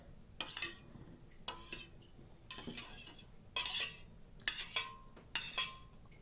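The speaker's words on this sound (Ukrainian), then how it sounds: "Ну, зараз ще трошки помішаю." A utensil scrapes and clinks against a bowl in several quick bursts of stirring doughnut batter, close by, with brief pauses between strokes.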